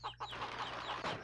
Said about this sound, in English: I'm pretty sure it's just a big chicken.